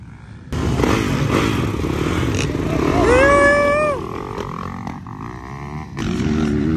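Honda dirt bikes ride a motocross track at Southfork Motoplex in Kentucky, engines droning loud and steady with a rising revving whine midway, under scattered talk.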